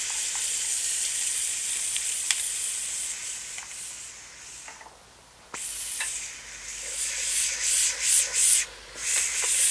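Tomatoes sizzle loudly as they fry in a cooking pot for chicken biryani, a steady hiss with bursts of crackling and occasional clinks, briefly dipping quieter midway before surging again.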